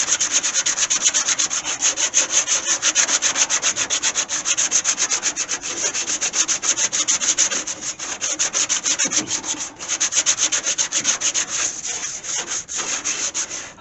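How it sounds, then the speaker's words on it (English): Steady close-up sanding by hand on a Gremlin car body's rust repair spot, a rapid, continuous scratchy back-and-forth rubbing that runs loud and even almost throughout, with one brief pause midway. "So let me finish sanding it."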